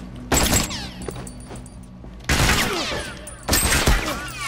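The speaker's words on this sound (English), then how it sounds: "I'm getting shot through cover like every time." Bursts of gunfire in The Last of Us Remastered video game, three loud volleys of rapid shots with ringing echoes, separated by short quieter gaps.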